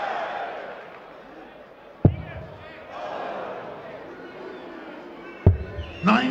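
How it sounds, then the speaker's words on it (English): Darts crowd at a European Tour semi-final on the Saarbrücken stage, a steady roaring hubbub from a large arena audience building in waves, punctuated by a couple of sharp loud thuds and swelling cheers. "The crowd really baying for a 9-dart finish on the European Tour."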